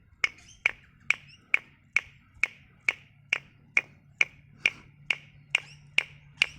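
Mulga wood clap sticks are struck together in an even rhythm, about fourteen sharp, bright clicks ringing out alone against a quiet background.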